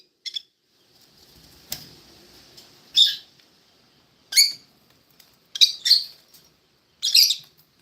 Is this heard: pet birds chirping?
yes